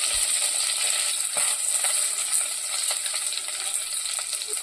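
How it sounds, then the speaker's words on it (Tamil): Dried chilli, green chilli, crushed garlic and curry leaves sizzle in hot oil as a tempering for bottle gourd kootu, a steady close hiss with scattered small pops and clinks of stirring, no talking. "தாளிச்சதை நல்லா கிண்டி விட்டுட்டு நல்லா பூண்டு வாசனைலாம் நல்லா வர மாதிரி வதக்கி விடணும்"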